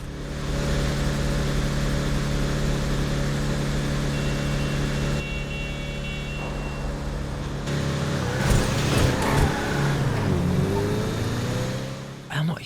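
A Declasse Impaler, the Chevrolet Impala lookalike in GTA Online, runs with a steady engine drone that shifts partway, then revs and rises in pitch with tire and suspension noise, with a voice over it.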